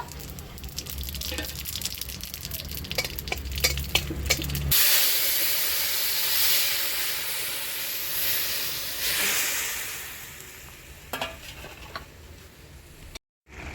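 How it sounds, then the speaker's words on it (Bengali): Dried red chilies and radhuni spices hit hot oil for tempering, setting off a sudden loud sizzling hiss that swells and fades, preceded by light utensil clicks and crackles. "এখন আমি এই শুকনো লঙ্কা ফোড়ন দিয়ে দিচ্ছি"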